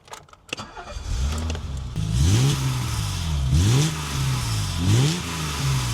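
A BMW E30 engine revs up repeatedly, rising in pitch with each acceleration and gear change, loud and close, with no talking.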